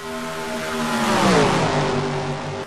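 Race cars in an ISCR convertible series race at Talladega in a racing video game, a loud sustained engine roar with layered tones that bend in pitch as the pack sweeps past a trackside spectator view.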